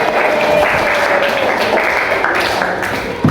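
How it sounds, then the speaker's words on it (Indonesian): A classroom full of students claps in applause, a dense, loud patter of many hands that fades slightly toward the end. "kita kasih aplaus"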